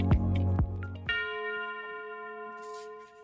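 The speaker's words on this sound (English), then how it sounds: "Talk about the bell." A single bell strikes loudly after a few low knocks, its bright tone ringing out and slowly fading with clear overtones over about two seconds.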